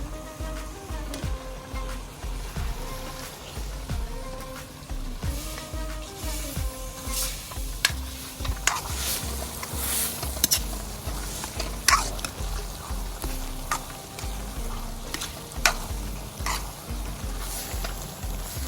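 Boiled chickpeas are stirred into a thick gravy in a pan, giving a steady run of soft scraping and wet squelching strokes with faint sizzling underneath, close by and without talk.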